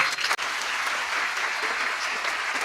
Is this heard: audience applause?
yes